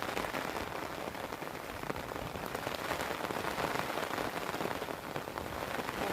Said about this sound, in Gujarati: જોરદાર વરસે છે.